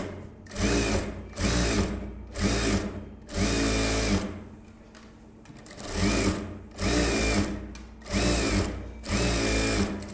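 A tailor's sewing machine stitches along a blouse edge in repeated loud whirring bursts of about a second each, separated by brief pauses, close up and with no one talking.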